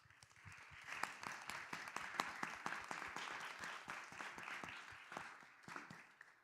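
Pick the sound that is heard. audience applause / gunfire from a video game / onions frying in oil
audience applause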